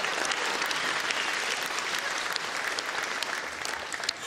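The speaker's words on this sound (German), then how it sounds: "einen riesen Applaus vom Publikum" Loud, steady audience applause at a Schlager music show, a dense wash of many hands clapping continuously and close, with no voices standing out.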